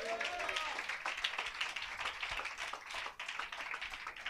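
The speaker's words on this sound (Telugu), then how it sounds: "కొట్టు గట్టిగా చప్పట్లో." A church congregation claps together at a family blessing gathering, a steady, fairly quiet patter of many hands filling the whole stretch with no talk over it.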